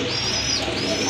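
A red bar female pigeon coos softly in a pigeon collection. A continuous, throaty warble carries over light background noise.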